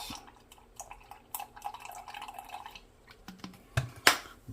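Milk poured out for a cortado, a soft trickling and dripping with small clinks, ending in a couple of louder knocks; no talking.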